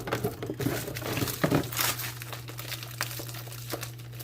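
Crinkly plastic rustling and crumpling, close and continuous, with a few sharper crackles as a brown sugar bag is handled and pulled open, over a steady low hum.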